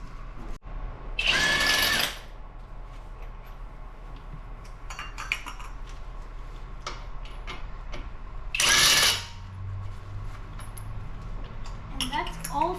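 A power tool removes the wheel bolts from a tire while a TPMS sensor is being replaced. Two loud, short whirring bursts stand out over quieter workshop clatter, with faint talk in the background.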